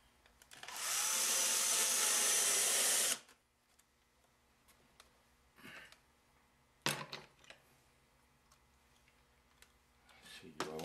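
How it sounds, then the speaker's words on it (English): A power drill drives screws into a wooden relief carving in one sustained burst of about two seconds, followed by a few brief, quieter mechanical sounds and light handling noise. "Couple of screws into this to"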